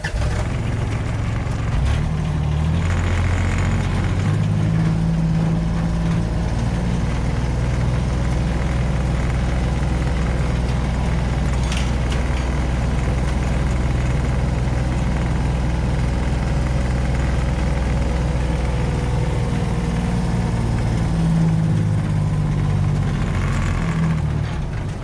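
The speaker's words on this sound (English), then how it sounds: "so this is a Kubota B2601" Kubota B2601 compact tractor engine idling outdoors by a forest, a steady low rumble held close and constant throughout with no talk.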